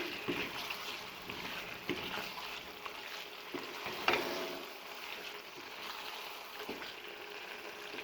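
A chicken curry with peas, potato and fresh green coriander being stirred in a pan, giving a soft continuous scrape and sizzle with scattered spoon taps, fairly quiet and steady throughout.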